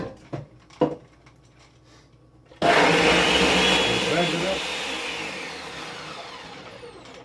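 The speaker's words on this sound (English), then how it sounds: "Blend it up for like, I'd say a couple minutes. Put it on high." A blender runs on high, grinding nuts for almond milk: after a few light knocks and a pause it roars on abruptly, loud and close, then settles into a steady whirring drone.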